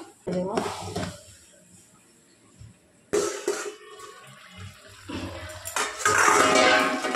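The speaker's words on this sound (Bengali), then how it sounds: "একটু জল দিয়ে দেবো।" Water is poured into a pan of coriander-leaf chicken, heard as a couple of bursts of splashing and hissing that grow louder toward the end, with faint voices and clatter around it.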